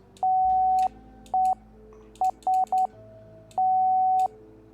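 A Morse code key sends a steady electronic tone in a clear pattern: a long press, a shorter one, three quick short beeps, then another long press, each separated by brief silences.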